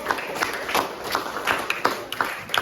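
Schoolchildren in a classroom clap their hands for all the groups, a lively, fairly close patter of many hands with sharp irregular claps standing out.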